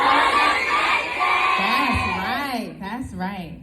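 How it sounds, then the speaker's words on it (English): A crowd of school children shouts a Wellness Wednesday cheer together, a loud burst of many young voices that fades into scattered shrieks and whoops. "So can we just hear y'all shout some Wellness Wednesday cheer?"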